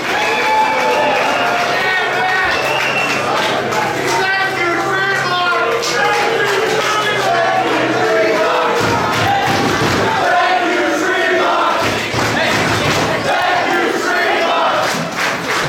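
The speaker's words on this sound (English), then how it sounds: "Break out into a thank you Tremont chant." Wrestling crowd at an indoor independent show chanting thank you Tremont for a heavyweight champion after a brutal match, a loud, dense wall of voices with rhythmic shouting and claps, sustained throughout with occasional thuds.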